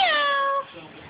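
A person imitates a cat with one drawn-out, clear meow lasting just over half a second, close and fairly loud, followed by quiet.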